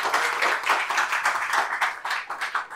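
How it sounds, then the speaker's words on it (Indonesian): Audience clapping and applause at a Christmas youth revival service in a church, a dense, steady burst of many hands filling the room, fairly loud and sustained throughout with no talk over it. "Tepuk tangan dulu dong untuk anak muda yang hadir di sini."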